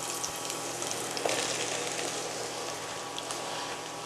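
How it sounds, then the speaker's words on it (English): Shiitake mushrooms sizzle steadily in hot oil with garlic in a pot, a continuous close frying crackle with no talking. "we will add our mushrooms to this."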